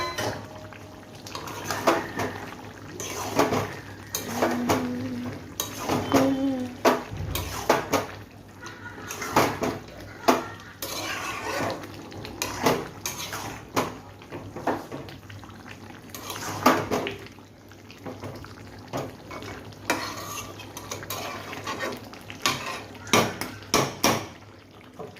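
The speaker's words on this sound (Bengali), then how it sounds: "এবার আমি আলুগুলো দিয়ে আবার কষিয়ে নেব," Potatoes are stir-fried into chicken curry in a pan, with repeated clinks and scrapes of a spatula against the metal, irregular and close, over a soft wet bubbling and sizzle.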